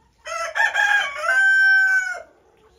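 A newly acquired rooster at a chicken coop lets out one loud, close crow, a rising stuttered opening drawn into a long sustained tone that drops away, heard alone with no talking.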